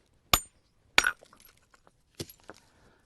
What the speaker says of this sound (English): using a hammer, slowly but surely marching around the edges